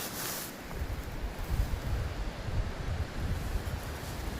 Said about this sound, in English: the old westerly wind is pumping